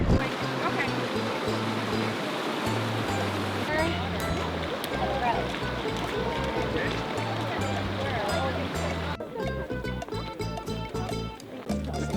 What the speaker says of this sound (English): So we made it to a river crossing